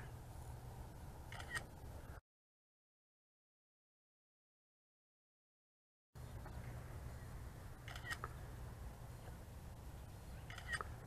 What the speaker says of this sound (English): There's a little shutter.